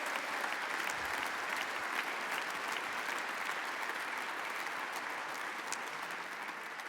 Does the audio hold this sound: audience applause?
yes